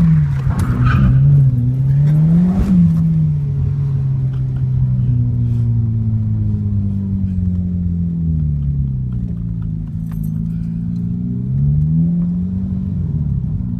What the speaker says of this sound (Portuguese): Driftzinho na curva.